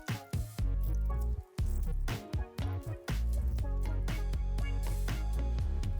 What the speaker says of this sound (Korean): 두부에도 수분이 많아서 물기를 꽉 짜줍니다.